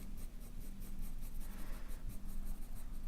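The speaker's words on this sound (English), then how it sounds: "I could just listen to myself drawing on paper." A pencil scratches steadily across paper while drawing hair and beards, a soft continuous close-up rasp with faint rhythmic strokes and no talk.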